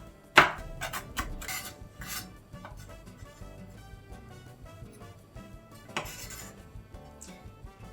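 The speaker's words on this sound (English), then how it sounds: "So chop this pepper." A chili pepper being chopped on a board with a knife, sharp irregular taps and clicks close by with brief scraping, quiet and without speech.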